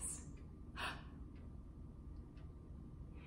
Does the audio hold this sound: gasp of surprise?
yes